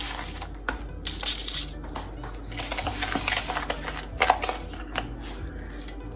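Pink lemonade scented scrub being stirred in a bowl, giving irregular clicks, scrapes and light clatter at a moderate level with no talk over it.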